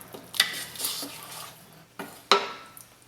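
A spoon scrapes and clinks against a pot while salt is stirred into a thick, simmering summer tomato sauce with sweet onions, a few sharp knocks among softer scraping strokes, close and fairly quiet.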